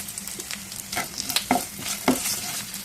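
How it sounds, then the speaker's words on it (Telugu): Dried red chillies, garlic, curry leaves, urad dal and turmeric frying in a pan: close, crackling sizzle with repeated scraping stirs and sharp pops. "బాగా వేయించుకోండి. వెండిమిర్చి, వెల్లుల్లిపాయలు, కరివేపాకు,"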